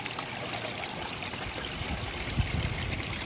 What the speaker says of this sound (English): All right, we got a rainstorm.